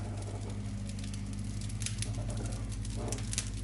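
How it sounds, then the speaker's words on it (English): Homemade French baguettes fresh from the oven crackling, with faint irregular ticks and pops over a steady low hum, close and quiet. "Lovely crackle, straight out the oven."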